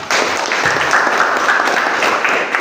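Loud, steady applause from a group during a coaching supervision session, sustained broadband clapping with no speech over it.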